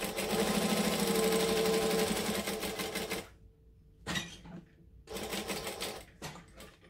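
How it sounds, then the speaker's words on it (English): A sewing machine stitches through the layers of a fabric clutch in a close, steady rapid run, stops, then makes shorter bursts for a back stitch and forward stitching. "Now I'm gonna start one stitch in, I'm gonna do one back stitch and then come forward."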